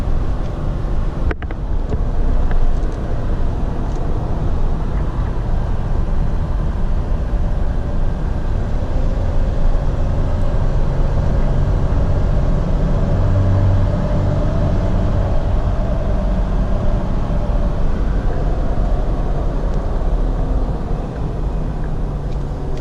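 A lifted Toyota 4Runner Sport cruises along a road, its engine drone blending with constant tyre and wind rush in a loud, unbroken interior roar, with no one talking.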